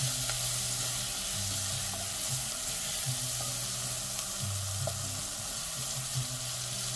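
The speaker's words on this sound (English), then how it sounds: "Continue stirring until the onion becomes a little translucent." Chopped onion sizzles steadily in a soup pot, with occasional scrapes and clinks from stirring over a constant frying hiss and a low hum in the background, no voices present.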